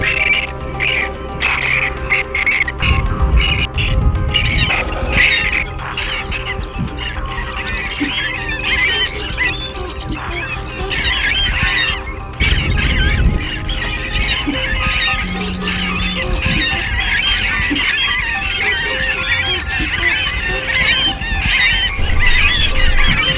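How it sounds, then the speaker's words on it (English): Geese honk and other birds call steadily from a few nesting trees at Lake Moogerah in the Scenic Rim, a busy, continuous chorus with no talk over it. "there's only 2 or 3 trees in the background here, and the birds are actually nesting"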